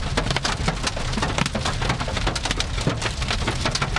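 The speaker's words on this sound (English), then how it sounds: "Got some big hail here." Big hailstones pelt down during a storm chase near Edmonton, a dense, continuous clatter of hard impacts bouncing on surfaces close by, loud and steady with sharp individual strikes throughout and no talking.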